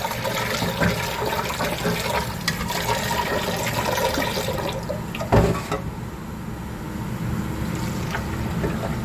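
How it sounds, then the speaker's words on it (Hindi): Water poured onto lentils (dal) in a vessel for washing, a continuous close splashing and gushing flow with a brief louder slosh partway through, continuing steadily to the end. "ये हमने पानी डाल दिया दाल का।"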